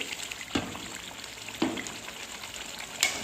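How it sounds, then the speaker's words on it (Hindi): Chicken and chickpea curry, Lahori murgh chanay, frying in a pot after a splash of water is added, with a steady low sizzle and three brief louder stirring or splashing bursts. "अब थोड़ा थोड़ा पानी डाल के मैं इसकी 5 मिनट और भुनाई करूँगी।"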